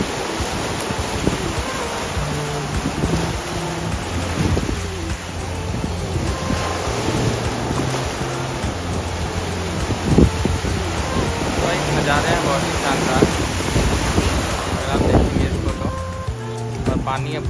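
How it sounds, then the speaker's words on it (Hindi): Sea waves crash and surge against rocks at Snapper Rocks beach on the Gold Coast, a loud, continuous roar of surf with heavy wind buffeting the microphone and a voice talking over it. "पानी पहाड़ से टकरा के उछल रहा है एकदम।"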